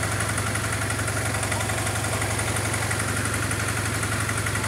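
Honda CBR 450 SR motorcycle engine idling during carburetor tuning, a steady rhythmic low throb with mechanical clatter, close and continuous without speech.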